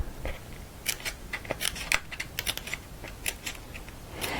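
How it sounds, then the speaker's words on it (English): Scissors cut slats into patterned paper for handmade paper slippers, giving a quick run of sharp, close snips at an uneven rhythm, with no talking. "Same thing, cut some slats."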